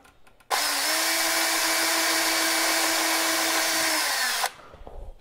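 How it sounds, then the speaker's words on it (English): A power drill pre-drills holes into the wooden cabinet of a Rob Zombie pinball machine for a knocker install, a single loud, steady whine lasting about four seconds with a sharp start and stop. "I'm going to pre-drill that and start it"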